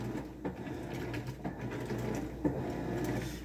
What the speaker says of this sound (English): I'm just testing out the washing machine